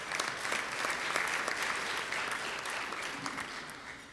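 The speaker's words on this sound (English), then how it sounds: "Let's give Jane a round of applause." Steady, dense applause from an audience at a Rotary club meeting, honoring the meeting's sponsor, continuous and fairly even throughout with no talk over it.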